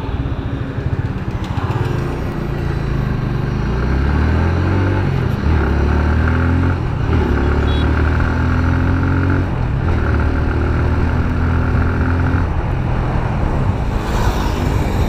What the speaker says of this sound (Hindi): बाइक को स्टार्ट कर देते हैं।